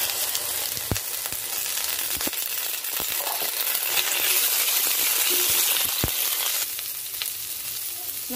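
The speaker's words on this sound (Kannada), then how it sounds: "ಈ ತುಪ್ಪದಲ್ಲಿ ಹುರ್ಕೊಳ್ಬೇಕು" Tender guava leaves fry in ghee in a pan, a steady close sizzle running throughout, with a few sharp clinks of a utensil against the pan and no voices.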